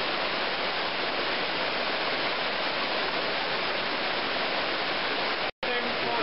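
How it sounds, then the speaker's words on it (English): Indian Creek runs through a deep pool on the Eye of the Needle trail, a loud steady rushing roar that holds without change and drops out for a moment just before the end. "There's a pool of water immediately on the other side that's very, very deep for this creek to be running through it."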